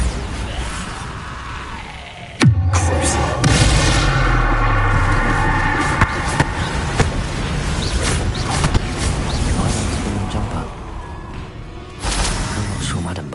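A sudden loud magical blast in Hogwarts Legacy, a sharp bang followed by a long rumbling, crackling roar of debris and rattling mechanisms, fading after about ten seconds.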